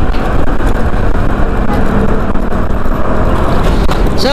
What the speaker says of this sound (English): Nabutan na ako ng traffic.